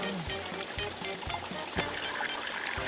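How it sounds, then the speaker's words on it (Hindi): Cartoon water gushes and trickles out of a math notebook, a continuous splashing pour with small irregular spatters that keeps running without pause. "इसमें से इतना पानी कैसे निकल रहा है?"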